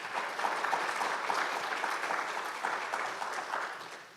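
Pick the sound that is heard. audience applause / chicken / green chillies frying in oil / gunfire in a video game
audience applause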